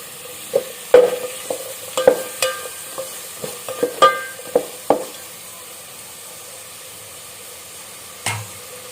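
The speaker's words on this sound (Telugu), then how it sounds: "అల్లం పేస్ట్ అనేది బాగా వేగాలండి ఆయిల్లో" Ginger paste frying in oil in a pan while a utensil scrapes and stirs it, giving a series of sharp clinks and scrapes over a soft steady sizzle, then a pause and one last knock.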